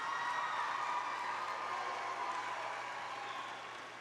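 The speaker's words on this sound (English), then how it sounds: "please give a round of applause to your parents and your family members that are in the audience behind you" A graduation audience at Columbia High School's 2018 ceremony applauds parents and family members, a steady wash of clapping heard from a distance in a large hall, fading slightly toward the end.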